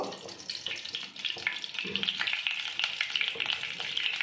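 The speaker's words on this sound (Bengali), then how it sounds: "এবার আমি কড়াইতে একটু তেল দিয়ে দেব" Oil sizzles in a wok as cooking carries on, a steady crackling hiss with light scraping and stirring noises and some muffled movement, moderately quiet.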